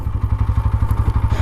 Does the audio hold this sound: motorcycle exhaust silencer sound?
yes